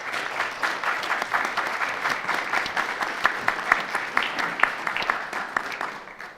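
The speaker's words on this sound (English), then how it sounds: "It's very nice to get an applause before we've even said anything." An audience at a China foreign-investment panel event applauds the arriving speakers, steady clapping of many hands sustained throughout, then thinning at the end.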